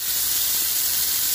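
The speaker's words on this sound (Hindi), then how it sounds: "ये जो गीजर का वाल्व है इसमें से जंग लूट पानी निकल रहा है।" Rusty water gushing from the valve of a gas geyser, a loud, close, steady hissing rush that stays constant throughout the short stretch, with no voices.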